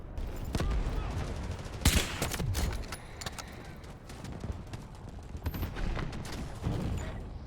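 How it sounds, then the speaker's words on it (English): Gunfire rings out in the Delta Force video game, sharp shots cracking at irregular intervals with one loud report standing out, mixed with distant battle noise and a faint game voice. "So I switch to my sniper and take some of them out."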